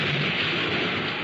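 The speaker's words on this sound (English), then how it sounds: "the sound of thunder" Thunder rumbles as part of a vintage radio broadcast, a sustained, dense roll of storm noise mixed with rain, steady and loud throughout with no voices.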